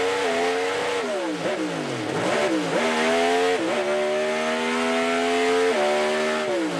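Onboard sound of a Pro Stock drag race car launching at Englishtown, a loud, close engine wail climbing through rapid gear shifts, each shift dropping the pitch before it screams back up, with no voices.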